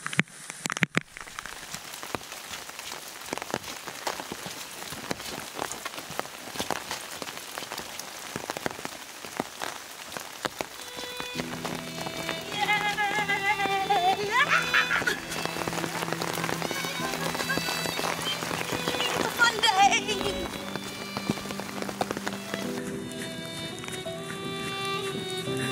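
Steady rain falls on a forest hiking trail in southwest Australia, a constant close patter of drops on leaves and gear that grows denser partway through, with no talking.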